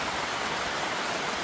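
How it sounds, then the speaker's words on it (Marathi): Heavy monsoon rain pouring outside a hotel near Mokhada, a dense steady hiss of falling water filling the air, continuous and close without voices. "जबरदस्त असा पाऊस चालू झालेला आहे."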